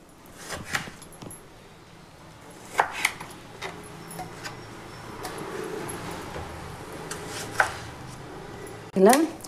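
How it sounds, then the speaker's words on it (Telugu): Tomatoes sliced with a knife on a board for Andhra-style tomato pachadi; scattered sharp chops and taps with pauses, a clatter of utensils at the end, faint voice-like background. "చూడండి ఇలా కట్ చేసుకొని మిక్సీలో వేసుకోవాలి"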